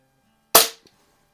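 Single sharp crack of a budget spring-piston air rifle, an Umarex Ruger Mark 4 or Snowpeak SP500, fired at a target, followed by a faint quick knock of the pellet hitting, in an otherwise quiet setting.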